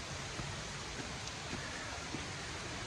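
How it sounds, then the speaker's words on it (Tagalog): Steady, faint hiss of light rain falling near a waterfall, a continuous soft wash of drops with no distinct pattern and no voices. "Nako, umuulan."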